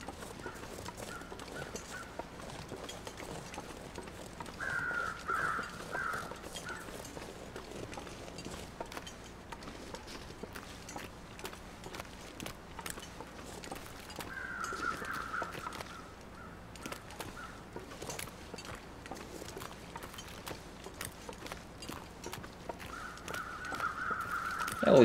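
Crows cawing in the survival video game The Long Dark at a trapper's cabin area, a few harsh caws coming and going over steady wind-like ambience, moderately faint and spaced out across the stretch with no talk.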